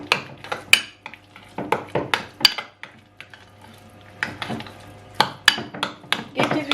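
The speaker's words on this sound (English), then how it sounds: "So you just mix everything properly." Devilled salmon egg filling stirred and mashed in a bowl, with a spoon repeatedly clinking and scraping in an irregular rhythm, close and fairly clear.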